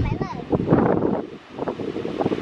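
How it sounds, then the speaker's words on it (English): Strong outdoor wind buffets the microphone in gusty, rushing bursts with rustling trees nearby, as a person talks over it. "it's a lot of wind outside"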